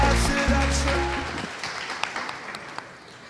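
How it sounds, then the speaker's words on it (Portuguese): An audience at a startup project showcase claps as a team is called to the stage. Sparse, fairly faint claps follow a short tonal sound and fade out over a few seconds. "Palmas para eles."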